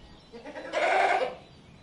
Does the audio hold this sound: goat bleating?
yes